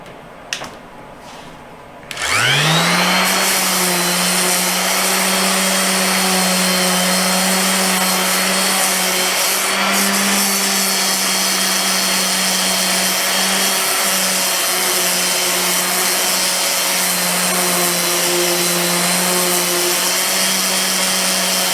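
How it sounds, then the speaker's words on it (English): A random orbital sander starts up and runs against wood, its motor rising to a loud, steady, close whirring whine that holds unbroken for about twenty seconds, with no voices. "on my random orbital sander, and I am just going to go through and sand these down"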